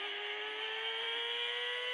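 A car in a video game street race drives steadily, its synthetic engine tone holding a constant whine with a bright, buzzy hum throughout, no talk.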